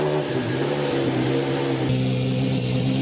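A Bentley Speed 8 engine in the Driving Empire video game, a steady loud rumble with strong low harmonics running throughout, its pitch shifting slightly partway through as it settles into idle.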